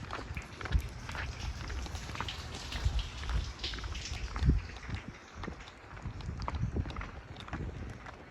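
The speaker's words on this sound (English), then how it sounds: "It's very much still raining" Steady rain patters throughout, with scattered drops tapping a surface and faint footsteps moving through wet ground.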